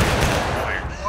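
Musket volley in the Civil War game War of Rights, a burst of overlapping shots crackling together with a voice calling over it.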